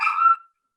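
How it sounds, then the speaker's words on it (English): One sharp, close dog bark or yip, bright and abrupt, cutting off quickly into silence. "There was a dog. Hey, be quiet. It's not my dog."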